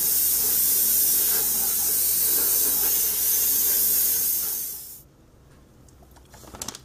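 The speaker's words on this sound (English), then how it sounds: "I'm going to spray the entire model with a tint of buff color" A steady fine hiss of airbrush spray applying a buff tint to a 1/35 scale Zvezda T-26 tank model runs for about five seconds, then cuts off, leaving quiet room sound and a few faint clicks.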